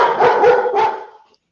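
A pet dog barks several times in quick succession indoors, a few loud, close barks that trail off at the end, heard alone without talk.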